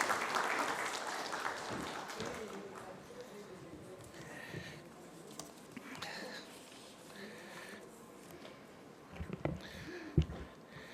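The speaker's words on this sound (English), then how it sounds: "let's have a big round of applause for Mr. Reji Pillai" Audience applause at the inauguration of a conference and exhibition, a crowd clapping loudly at first and then thinning to scattered claps and hall murmur, with a few sharp claps near the end.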